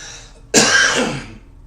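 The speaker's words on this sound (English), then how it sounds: "I'm probably going to hark out a lung because I got a cough" A single harsh, phlegmy throat clearing that rises abruptly into a loud raspy cough and trails off over about a second, close up and alone.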